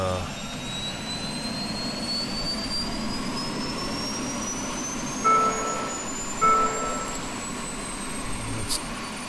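A Eurocopter EC135 helicopter turbine spins up during engine start in X-Plane 11, a steady whine climbing slowly in pitch over a constant roar, with a few short beeps and clicks.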